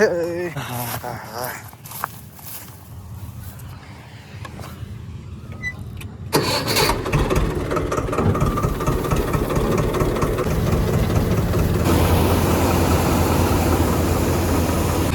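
A tractor engine cranks and starts after a stretch of quieter outdoor noise with a dog barking, then settles into a loud, steady idling rumble that runs on, with people talking.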